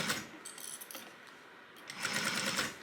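A sewing machine stitches a 3/8 inch seam on a crossbody bag in a quick whirring run of clicks, pausing briefly before resuming with a louder buzzing burst, close and alone.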